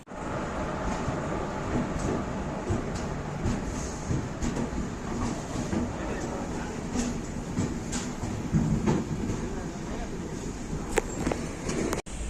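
Steady rumbling and rattling of the Bangalore Mail express train departing Chennai Central, heard from inside the carriage with muffled voices and clatter.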